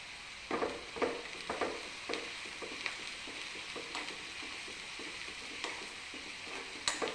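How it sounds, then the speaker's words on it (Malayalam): Onions with curry leaves and green chili fry in a pan for Kerala chickpea curry, a soft, low sizzle broken by several distinct spoon scrapes and stirring clicks. "ഉള്ളി നല്ലതുപോലെ മൂപ്പിച്ചെടുക്കാം."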